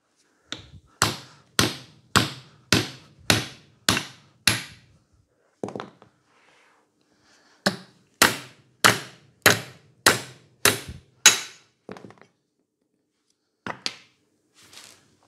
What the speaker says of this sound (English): we'll try and knock that with the hammer and see if she'll come out.